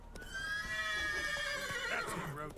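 Roach, a horse in The Witcher 3, lets out a clear drawn-out whinny that rises and then falls, with soft hoof clops underneath.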